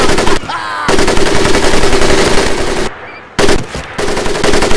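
Sustained automatic machine gun fire from a World War II shooter video game set in the Pacific, loud continuous bursts that cut out briefly around the middle, then resume.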